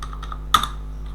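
Computer keyboard in Optitex pattern-making software: a few faint key taps, then one sharper, louder keystroke midway, close and alone without talk over a steady low hum.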